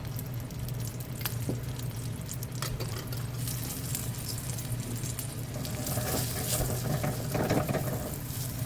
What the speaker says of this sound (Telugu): ఇలా వేయించేసుకొని దీంట్లో పెట్టుకోండి, వేయించండి.